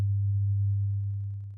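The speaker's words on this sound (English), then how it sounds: "We have a 100 Hz sine wave here." A pure 100 Hz sine tone hums low and steady at constant loudness, with faint soft ticking creeping in partway through before the tone begins to fade.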